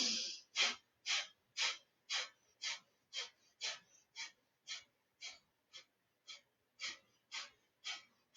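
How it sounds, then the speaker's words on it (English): About seventeen sharp, forceful exhales in a steady rhythmic series during yoga breathing, each a short breathy burst, close and fairly quiet with no talking. "So just a forceful, continuous exhale."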